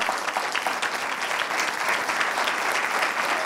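Dense, sustained clapping fills the hall at the SUMA Expo Fest in Los Ángeles, a large audience applauding steadily and evenly with no voices over it.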